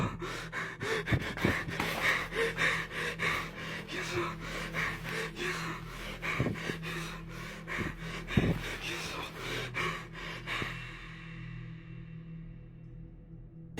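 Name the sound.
heavy breathing in ghost video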